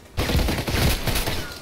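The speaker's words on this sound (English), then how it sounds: "All guys are playing with this shotgun." Shotgun fire in the online shooter Contract Wars, a loud close blast followed by rolling, dense gunfire that stays heavy through the short stretch.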